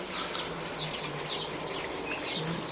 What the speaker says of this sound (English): Listen to the sound of the birds.